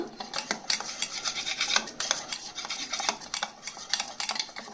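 Gram flour is stirred into water in a bowl for Bombay chutney, with rhythmic, close scraping and clinking strokes of a spoon against the bowl.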